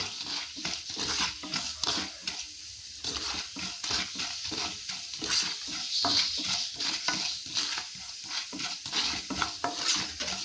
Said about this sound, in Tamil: இந்த உளுந்தப்பருப்பு செவக்கிற அளவுக்கு இதை நல்லா வறுத்து எடுத்துக்கிறலாம்